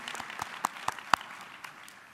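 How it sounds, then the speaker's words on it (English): A few scattered handclaps from the audience at a U.S. naturalization ceremony during an education conference, sharp isolated claps at a moderate distance, fairly faint and sparse, with no talking. "How about another round of applause for both the Mission High School Junior Reserve Officer Training Corps and the Lowell High School Chamber Choir."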